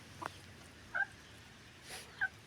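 Several short, faint clucks from a hen eating eggs in a farmyard, spaced irregularly with quiet background between them and no talking.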